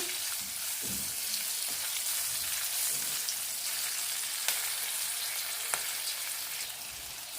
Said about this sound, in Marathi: एक काश्मीरी लाल सुकी मिरची घेतलेली आहे ती आपण यामध्ये ॲड करून घेऊया एखादा मिनटं मिरची आपल्याला तेलामध्ये छान परतून घ्यायची आहे